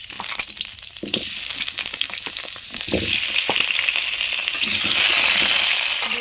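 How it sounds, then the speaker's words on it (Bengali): Potato pieces frying in hot mustard oil in a wok, a steady loud sizzle with scraping stirs and clinks, the frying growing denser and louder toward the end, with no talk. "আলুগুলো লাল লাল করে ভেজে নেব"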